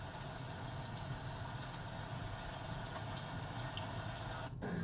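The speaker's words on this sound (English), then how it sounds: "We have some rain." Rain ambience played through the sound system of a 2023 Kia Stinger GT, a soft, steady wash with faint scattered ticks over a low cabin rumble.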